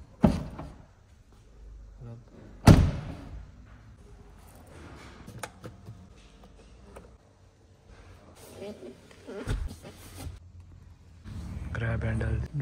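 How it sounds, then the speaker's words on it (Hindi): A Ford Bronco with frameless doors opens, giving a sharp latch click and a short whir as the frameless window glass drops slightly, with someone talking over the mechanical sounds. "जब मैं दरवाजा खोलूंगा ये शीशा डाउन हो जाएगा"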